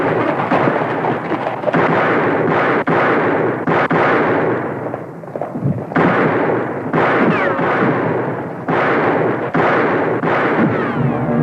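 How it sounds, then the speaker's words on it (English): Gunfire in a 1970 Western shootout, with loud booming reports fired in rapid bursts and broken by short gaps, heavy and echoing throughout. "Which way you shooting, Jason?"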